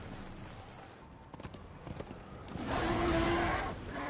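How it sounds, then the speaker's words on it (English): Horse hooves clip-clop in the video game Darksiders 2, a steady run of quick, close hoofbeats that gives way to a louder, rushing swell of noise in the last second and a half. "And I can't ride my horse any further."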